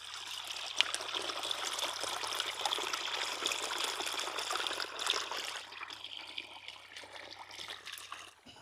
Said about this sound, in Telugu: మంచిగా నీళ్ళ సౌండ్